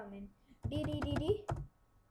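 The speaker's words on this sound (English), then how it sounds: "now I'm gonna enter my password" Password being entered on a computer keyboard: a short burst of several quick key clicks close by, followed by a single separate tap, with a voice speaking faintly just before.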